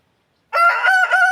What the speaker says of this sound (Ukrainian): півнячий спів для вас, мої дорогі друзі